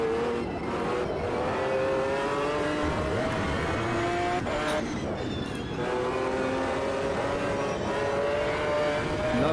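A GT1 race car in the Automobilista 2 racing game accelerates hard at dawn, its engine climbing through steady rising harmonics, loud and close throughout with brief shifts midway.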